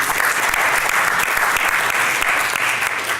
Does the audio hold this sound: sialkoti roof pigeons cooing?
no